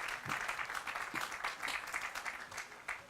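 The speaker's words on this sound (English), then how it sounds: "let's give all of you a round of applause for what you've done to make this day possible" Audience applause at a Cortex Metrolink station grand opening ceremony, a steady crowd clapping that holds for several seconds at moderate volume before fading slightly.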